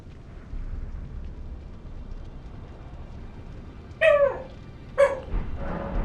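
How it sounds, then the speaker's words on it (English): In the video game Elden Ring Shadow of the Erdtree, a dog gives two sharp, separate barks about a second apart over a low rumbling ambience. There is no speech. "This dog's crazy."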